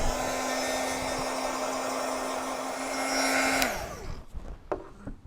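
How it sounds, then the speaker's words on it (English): Heat gun blowing hot air over a craft project, a loud steady whine and rush of air running for about three and a half seconds before switching off, followed by light handling clatter. "I'm gonna go ahead and hit this with my heat gun real quick"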